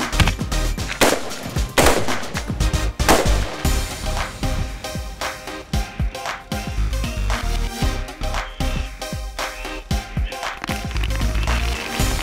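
Rapid gunfire from Navy SEAL training shooting, loud and close, with dense overlapping shots throughout and little pause.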